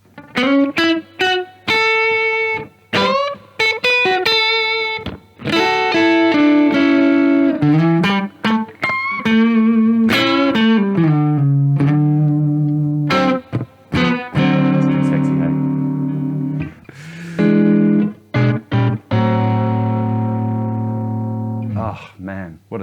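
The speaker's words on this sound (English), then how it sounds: "I'm gonna put a tiny bit of delay on" A Gibson 335 electric guitar fitted with a Tone Pros bridge plays a run of melodic notes and held chords through a light delay, the repeats trailing each phrase, loud and close with no talking over it.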